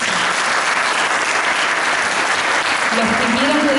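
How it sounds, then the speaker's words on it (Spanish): An audience at a Catholic gathering with a bishop present applauds in a dense, sustained burst of clapping that stays loud and even throughout. "un aplauso más fuerte"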